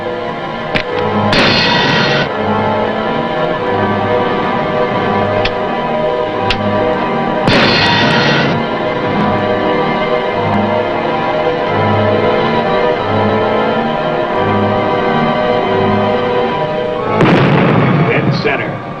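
A World War II submarine fires torpedoes at a target, heard as a dense dramatic soundtrack with repeated deep booms and bursts of hissing noise over a rhythmic low pulse, loud and continuous throughout.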